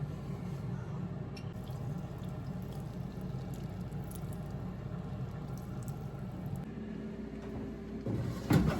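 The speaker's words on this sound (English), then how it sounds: "You're gonna get it real hot and then pour it on top of the meat." Hot melted butter pours over meat in a home kitchen, a soft, steady trickle and sizzle at close range that holds evenly before a sharper clatter at the very end.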